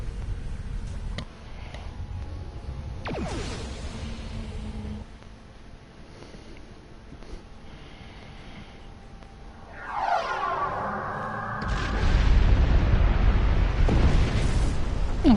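Starship weapons fire striking a target in Star Trek Online: a low rumbling hum, a sharp swept burst near ten seconds, then a loud booming impact explosion that rolls on to the end.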